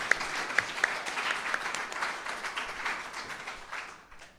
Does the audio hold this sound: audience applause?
yes